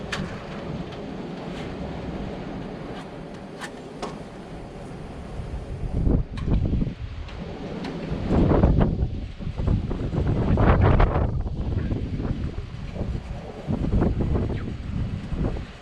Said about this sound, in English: And it's pretty windy right now,